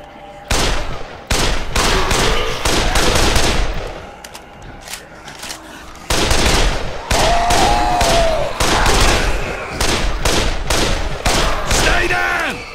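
A player's gun firing in Dead Island, with repeated sharp gunshots in rapid bursts, loud and close, broken by short pauses and mixed with other game noise.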